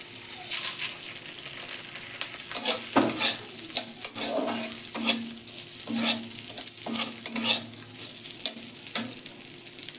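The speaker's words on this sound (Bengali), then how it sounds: "ডালটা আমি ভেজে নিচ্ছি।" Dal and chana dal being dry-fried together in a pan, with a steady low sizzle and repeated scraping stirs of a spoon through the lentils, close and continuous.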